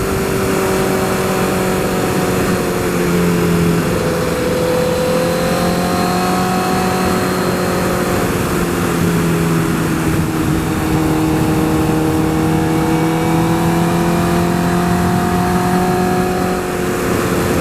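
A 2012 Honda CBR 1000RR motorcycle engine revs loudly and steadily throughout the ride, its pitch rising and falling as the rider works through the gears, with wind noise and no talking.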